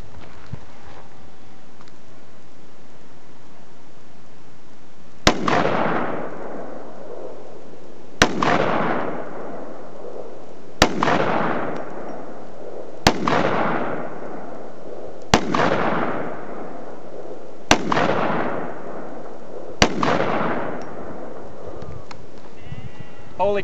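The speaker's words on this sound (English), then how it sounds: "So we'll go ahead and shoot at our target." Seven loud, evenly spaced shots from a chrome .50 caliber Desert Eagle pistol fired at a target, each a sharp crack with a booming decay, a few seconds apart.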